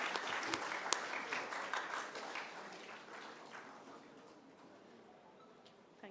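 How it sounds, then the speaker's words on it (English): Applause from a conference audience in a hotel ballroom during a surgical meeting session, a dense patter of clapping that starts fairly full and gradually thins and fades over about six seconds. "please welcome him with a round of applause"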